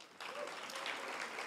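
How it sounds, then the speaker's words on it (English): A round of applause from an audience at a talk, breaking out abruptly after a brief quiet moment and continuing as a steady, moderately distant patter of many clapping hands. "A round of applause,"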